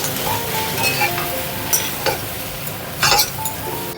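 Cumin powder being stirred into a hot pan while making a vegetarian elephant foot yam dish, with sporadic spoon-on-metal clinks and scraping over a low sizzle.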